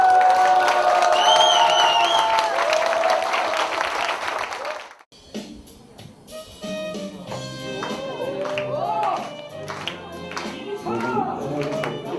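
An audience claps and cheers in a dense, loud burst for about five seconds, then breaks off abruptly, leaving quieter tonal sounds and scattered noises afterward.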